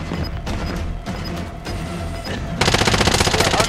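Rapid automatic gunfire in the Call of Duty: Modern Warfare battle royale, loud and close, building into a dense continuous burst near the end with no talk over it.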